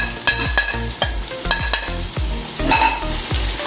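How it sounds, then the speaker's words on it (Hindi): Red chili powder, Kashmiri chili, turmeric and salt cooking in a pan with oil for a gourd curry, giving a steady close sizzle broken by repeated rhythmic scraping stirs of a spoon against the pan. "इसको भी हम हल्का सा पकाएंगे, बहुत ज़्यादा नहीं पकाएंगे वरना हमारे मसाले जल जाएंगे।"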